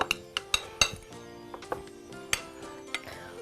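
A vegan wonton filling with mushrooms and plenty of pepper stirred in a bowl, giving a series of irregular bright clinks of a utensil against the dish, close and fairly quiet.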